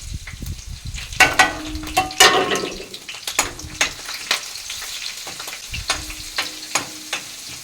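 Cumin seeds and garlic crackle in hot oil in a pan, with bursts of loud sizzling and repeated stirring scrapes and taps, close and clear.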